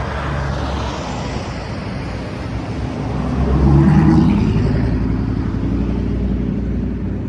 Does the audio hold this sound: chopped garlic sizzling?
no